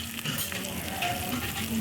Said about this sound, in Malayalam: എന്നിട്ട് നന്നായിട്ട് വഴറ്റിയെടുക്കുക.